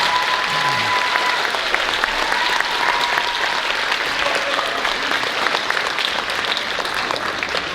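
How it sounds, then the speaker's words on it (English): Sustained applause from a school concert audience welcoming a 7th grade band at a middle school winter band concert, a dense, steady wash of many hands clapping that holds loud and even for the whole stretch. "Give them a warm round of applause to welcome them."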